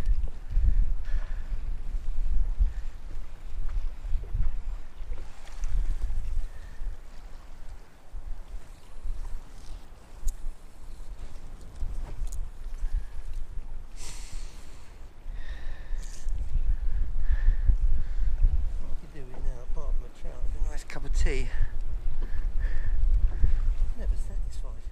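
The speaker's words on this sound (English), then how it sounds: "The wind has really picked up in the last minute or two" Strong gusting wind blowing across open water during winter trout fishing, loud buffeting rush that swells and eases, with someone talking intermittently over it.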